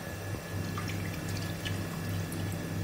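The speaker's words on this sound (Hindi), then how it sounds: "उसमें 1 कप के करीब दूध डालेंगे" About a cup of milk is poured into a pan on a gas stove for a leftover boondi laddu halwa, making a faint, steady liquid trickle with a few soft splashes.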